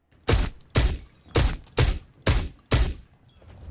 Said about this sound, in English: Just listen to this semi-auto rifle with a suppressor on it.